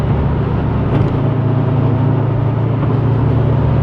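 A Mazda Miata drives past at night with a loud, steady engine drone and road rumble, close by and continuous for a few seconds.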